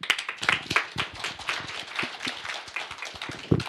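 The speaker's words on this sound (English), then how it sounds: "Give them a round of applause." Scattered applause for the panel at the close of a Davos 2020 session on tackling poverty: a modest audience claps in distinct, uneven slaps, fairly close and thinning out rather than swelling into a roar.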